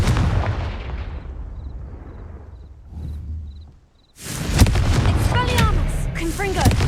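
Confringo fire spell blasts in the Hogwarts Legacy video game, with heavy booming bursts up front, a lull with faint beeps, then a loud dense burst of explosive noise and game sounds.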